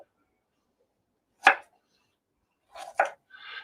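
A knife chops through a thumb-sized piece of ginger on a board: a single sharp close cut, then after a pause a few quick cuts in a row against near silence.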